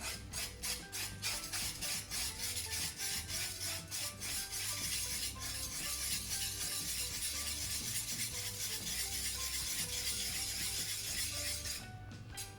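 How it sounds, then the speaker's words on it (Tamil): A whisk beats lumps out of an unroasted rice flour batter, giving a fast, steady rhythmic clatter and scraping against the bowl up close, continuing for several seconds before stopping. "இனி விஸ்கால கட்டி இல்லாமல் மிக்ஸ் பண்ணி எடுக்க போகிறேன்."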